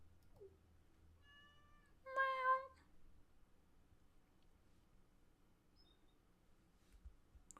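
A single short cat meow from the Stardew Valley video game rises briefly and clearly over near silence, followed by a faint low hum.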